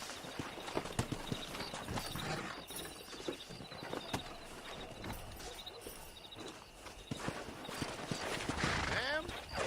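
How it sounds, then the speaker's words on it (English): Horse hooves clip-clop at a steady walking pace in the Red Dead Redemption video game, mixed with tack creaks and mechanical clicks, while a voice talks over parts of it. "That ranch hand said there's a pack of wild horses nearby."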